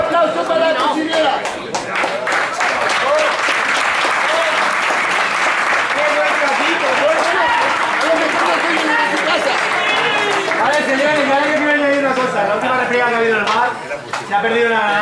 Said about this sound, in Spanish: ¡Un aplauso para la cocinera!